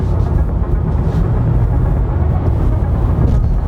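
A 2025 Volvo EX30 Twin Motor Performance AWD electric car pulls away in a brief burst of acceleration, heard from the cabin as a loud, steady low rumble of road and motor noise without speech.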